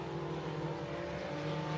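Sport compact race cars at Crawford County Speedway drone in a steady, distant hum, a continuous mechanical whine with no breaks, faint and even.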